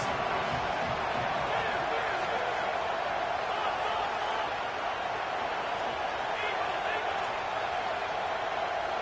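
Stadium crowd cheering on a big third down in a football video game, a dense, continuous roar of many voices holding steady at a constant loud level with no individual voices standing out.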